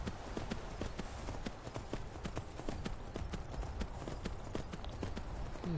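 Horse hooves climbing rough terrain in Skyrim, a steady run of sharp clip-clop strikes in irregular rhythm over a low rumbling bed, fairly close and without talk.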